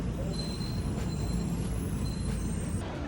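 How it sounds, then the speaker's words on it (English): An airport people-mover train rolls in at a terminal gate in Tampa, a steady loud rumble with faint high wheel squeals ringing over it and no voices. "Never seen a train take you to your gate."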